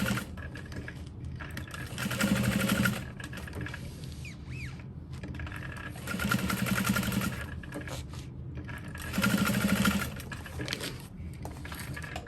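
A sewing machine bastes backpack pieces in three bursts of rapid, rattling stitching of a few seconds each, separated by quieter pauses with light handling noise, close and clear.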